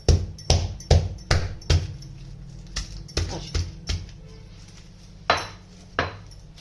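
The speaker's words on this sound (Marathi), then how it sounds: "तर हे कांदे ना आपल्याला आता प्रथम पहिल्यांदा असे थोडस ठेसून घ्यायचे" Onions being lightly crushed by hand before roasting over a gas flame for a village-style brinjal curry with dried bombil fish: about a dozen sharp, close knocks in an uneven rhythm, with no talking.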